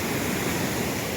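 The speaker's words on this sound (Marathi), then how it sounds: "हो बघा तो धबधबो खाली जाऊ भेटायचा नाही कारण पाणी खूप प्रेशरने हा." A waterfall on a monsoon trek sends water rushing down under high pressure, a dense, loud, unbroken roar of white noise with no voices.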